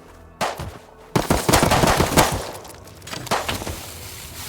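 Rapid automatic bursts of incendiary-ammo gunfire crackle loud and close in the survival game Rust, a dense volley followed by scattered shots.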